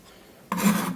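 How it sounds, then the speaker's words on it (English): Garlic being shredded, a short burst of close, raspy scraping that starts abruptly halfway through after near silence and continues steadily to the end. "So we'll have to shred the garlic"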